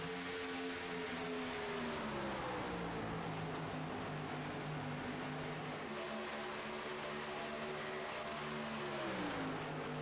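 Stock race cars in an Xfinity Series race at Michigan roar down the front straightaway side by side, a loud continuous engine drone whose pitch shifts as the cars pass.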